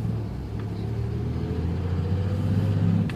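A 2007 Dodge Ram pickup truck engine drones steadily while driving, shifting from fifth into sixth gear, a low rumbling hum with road noise, rising slightly toward the end.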